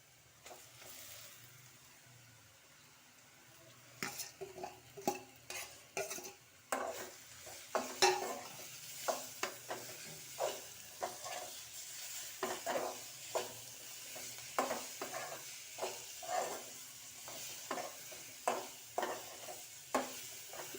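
Chopped onions with chili powder fry in a pan for coconut chili paste, a steady soft sizzle under repeated scraping strokes of a spoon against the pan that grow busier and more rhythmic as the stirring goes on.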